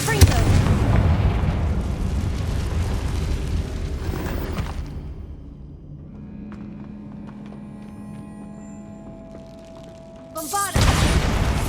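Fire-spell blasts in the Hogwarts Legacy video game, cast in underground catacombs: a loud, rumbling fiery roar that fades to a quieter lull, then a fresh explosive burst near the end, with game dialogue around it.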